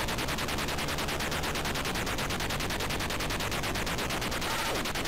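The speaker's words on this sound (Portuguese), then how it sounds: "eu atirei, por isso que faz esse barulho" Rapid, steady electronic shooting bursts from the Atari 2600 game Snoopy and the Red Baron, a dense buzzing stream of repeated shots running without pause, loud and close.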